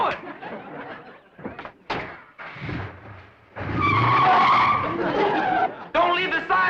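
A car in an early-1960s TV sitcom pulls away with tires skidding and squealing, the engine rising under overlapping dialogue and a laugh track.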